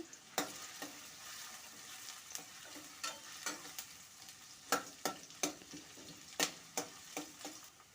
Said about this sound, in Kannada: ಈಗ ಒಗ್ಗರಣೆಗೆ 2 ಸ್ಪೂನ್ ಎಣ್ಣೆ ಹಾಕ್ಕೊಳ್ತಾ ಇದ್ದೀನಿ. ಸಣ್ಣಗೆ ಹೆಚ್ಚಿರುವಂಥ ಈರುಳ್ಳಿನ ಹಾಕ್ಕೊಳ್ತಾ ಇದ್ದೀನಿ.